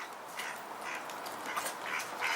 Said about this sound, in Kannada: ಎಷ್ಟೊಂದು ಡಕ್ಕಿಸ್ ಬಂದ್ಬಿಟ್ಟಿದಲ್ಲ